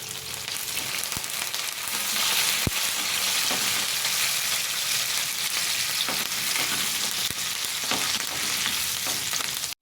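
A dal tempering sizzles in hot oil with curry leaves, a dense, loud, continuous frying hiss with occasional faint crackles and a few sharp clicks.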